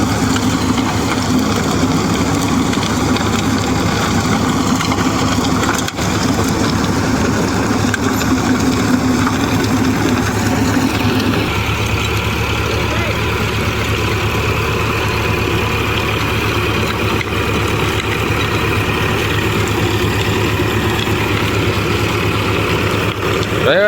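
A Swaraj 963 tractor runs with a mulcher attached in the field, a steady, loud, low engine drone with continuous mechanical rumble and slight shifts in tone partway through.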